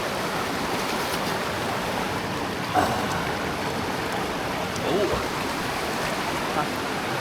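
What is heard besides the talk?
stream water flowing at a waterfall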